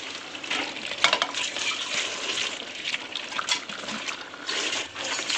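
Raw chicken is added to a hot pan with green chillies and stir-fried, giving a steady close sizzle with wet scraping and stirring noises that rise and fall.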